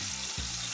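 A rice sofrito for oven-baked rice fries steadily in a pan while being turned, with a dense, continuous sizzle and a soft stirring scrape partway through.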